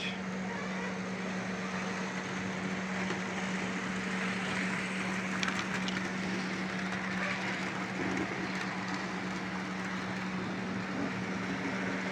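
A small HO scale model train hums along steadily with a constant electric whine and light rolling clatter, close by and unbroken.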